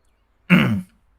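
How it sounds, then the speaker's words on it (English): One short, close throat clearing, a brief gruff rasp of under half a second, alone in an otherwise quiet room. "I clear my throat."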